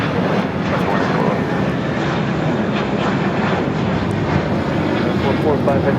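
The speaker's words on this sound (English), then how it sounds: "This is American Airlines 184 taking off to JFK on the A321" An American Airlines A321 takes off from LAX, a loud, sustained jet engine roar with a dense rumble that holds steady throughout, with faint talk beneath it.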